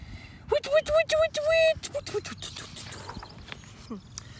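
A voice imitates a rotating sprinkler with a quick run of short, pitched bursts, then softer clicking sputters trailing off.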